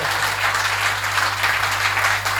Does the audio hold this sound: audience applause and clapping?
yes